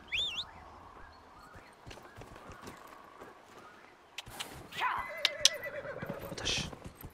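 A horse whinnies briefly at the start in the video game Dragon Age: Inquisition, then scattered clatter and a louder burst of calls and thuds follow, with no talking.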